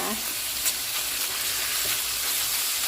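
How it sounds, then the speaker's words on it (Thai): Pork stir-frying in hot oil in a pan, a steady loud sizzle with scraping stirs running throughout, close and continuous with no voices. "เรารวนหมูนะคะ ผัดกับน้ำมันแล้ว"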